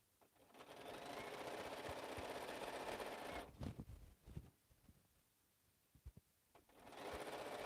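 Sewing machine stitching a slouch bag in a quilting workshop, two long bursts of loud, steady motor whirring close by, separated by short pauses with a few clicks and soft handling noises.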